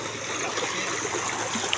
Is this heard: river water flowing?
yes